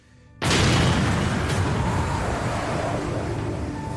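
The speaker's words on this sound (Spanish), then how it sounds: "Hubo una gran explosión." A delayed-action bomb goes off in one sudden, massive blast, followed by a long, loud rumbling roar that slowly fades.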